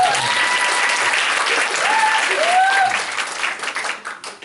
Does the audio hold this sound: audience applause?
yes